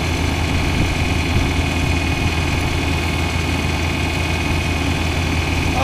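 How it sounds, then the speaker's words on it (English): A 1973 International Loadstar 1600 truck idles with its PTO shaft running, giving a loud, steady, close mechanical drone with an even hum throughout and no speech. "this is what you're going to see right now, what it is that a PTO shaft actually does."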